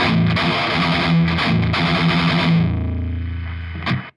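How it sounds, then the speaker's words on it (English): Fuzzy, distorted electric guitar through a tube amplifier plays a thick, saturated metal riff, then holds a sustained chord that fades before a short final strum cuts off. "Even bring a bit of the fuzz into the sound."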